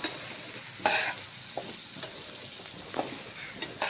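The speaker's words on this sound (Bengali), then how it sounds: "অনেকক্ষণ ধরে লো ফ্লেমে ধীরে ধীরে কষে নেব" Potato and capsicum are stir-fried with a paste over a low flame, giving a steady close sizzle punctuated by several scraping strokes of a spatula against the pan.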